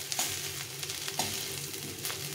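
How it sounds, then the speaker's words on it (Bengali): Onions sizzle and fry in a pan, a constant hiss with a few sharp crackles and stirring scrapes, close and alone without talk. "পেঁয়াজটা অনেকটা ভাজা হয়ে গেছে, আর একটু ভেজে নিতে হবে"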